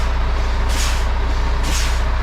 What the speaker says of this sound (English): That noise you can hear, that's the brakes being activated